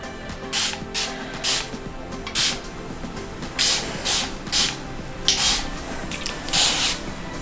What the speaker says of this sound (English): Now I'm gonna take my mister bottle and spray like the edges.